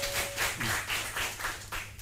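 A small group claps at a quiz show, a light scattered round of applause with distinct individual hand claps following one another for a couple of seconds.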